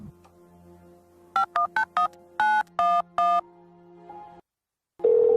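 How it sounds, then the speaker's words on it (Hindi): A telephone is dialed to call someone: a quick series of about eight distinct keypad tones, each short and evenly spaced, heard over a low hum. A steady tone follows, a pause, and then a louder tone at the end. "अगर तुम्हारा मन करता है तो ये लो फोन और कर लो बात"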